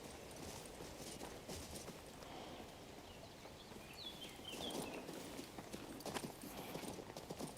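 Horse hooves clip-clop at a steady walking rhythm in the video game King's Bounty II, quiet and fairly close, with faint bird calls and ambient game sounds around them.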